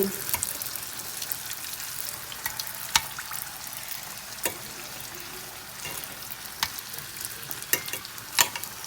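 Fasnacht dough pieces frying in hot oil, a steady soft sizzle broken by sharp clicks and pops as pieces are added, close and moderately quiet with no talking.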